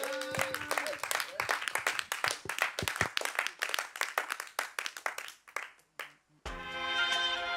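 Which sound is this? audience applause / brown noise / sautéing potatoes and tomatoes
audience applause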